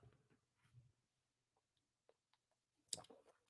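A computer mouse clicks during an online fantasy football draft, with a few faint, sparse ticks that end in a sharper cluster of clicks, and a low murmur at the start.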